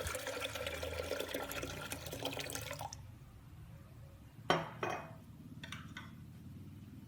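A bottle of water is poured into a pot of pigeon peas for sambhar, a splashing gush for about three seconds, followed by quieter clinks and small knocks of the pot in a calm kitchen.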